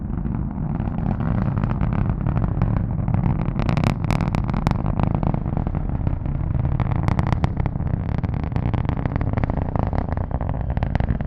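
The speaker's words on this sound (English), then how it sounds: "There you hear the roar of the Merlin engines." The Merlin engines of a SpaceX Falcon 9 rocket at launch from the Cape, heard from the Kennedy Space Center press site as a loud, continuous low rumbling roar with crackling bursts throughout.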